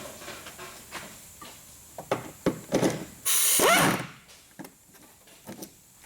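A power impact gun works loose muffler bolts, sounding one loud, close, sustained burst of about a second, set among scattered clanks and knocks of tools.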